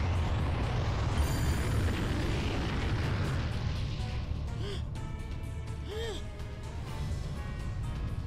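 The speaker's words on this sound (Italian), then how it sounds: "Questa è una bella esplosione," An explosion in the Dragon Ball Z Kakarot video game, a loud sustained rumbling blast that fades into lingering roaring effects with brief higher whooshing bursts near the end.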